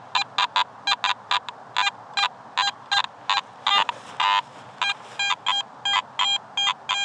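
A metal detector sounding over a buried target in sod at a Scottish castle motte and bailey, giving rapid, repeated high electronic beeps in bursts, loud and close, with a brief garbled patch midway.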